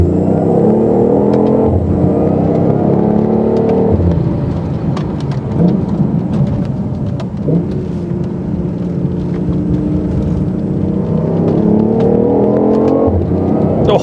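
A 360-horsepower sports car in sport mode revs hard under paddle-shift acceleration, its engine note climbing in pitch at the start and again near the end over a steady loud roar, with no talking.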